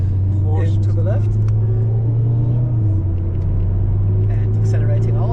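A VW Golf 7.5 GTI accelerating on the Nürburgring Nordschleife during a public lap, its engine a loud in-cabin rumble that climbs steadily in pitch under a driver's spoken commentary.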